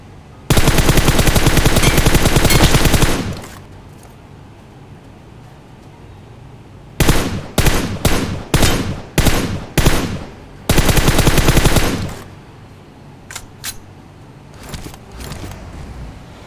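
Rapid automatic gunfire in PUBG Mobile, loud and close, arriving in a long sustained burst, then a string of short bursts, another long burst, and a few faint distant shots at the end.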